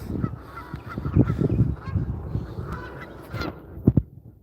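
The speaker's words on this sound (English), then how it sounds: "I don't remember those geese or ducks being here on my way over here" Geese honking along a walking path outdoors, a loose series of hoarse calls bunched around the middle with two sharp loud honks near the end, fairly close and heard alone.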